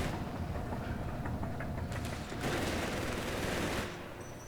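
An 88 gun firing during a Company of Heroes 3 battle, a sharp loud report midway through a dense, continuous roar of battlefield noise and rumbling engines.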